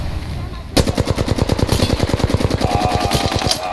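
Rapid automatic gunfire in a video game bursts in suddenly and keeps going as a loud, fast, evenly spaced stream of shots for several seconds, with no pause between rounds.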